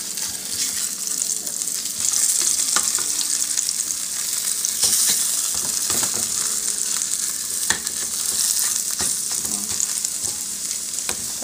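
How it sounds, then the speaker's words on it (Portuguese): Tapioca and fried mortadella sizzle in margarine in a pan, a steady, fairly loud frying hiss broken by scrapes and clicks from a utensil, with no voices. "Já tô fritando aqui"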